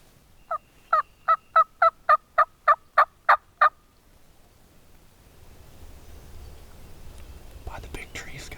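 Wild turkeys gobbling during a spring hunt in Missouri, a rapid run of about ten sharp, evenly spaced gobble notes, fairly close, followed by quiet outdoor rustle and faint distant sounds.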